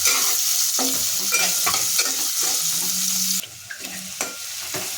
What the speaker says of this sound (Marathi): कांदा चांगला सोनेरी रंग येईपर्यंत आपल्याला परतून घ्यायचा